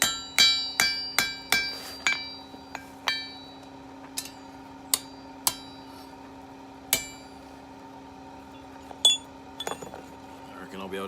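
Sharp metallic hammer blows ring out as a blacksmith forges and tapers a hot steel planter stake on an anvil, about a dozen irregular strikes with ringing decay over a steady background hum.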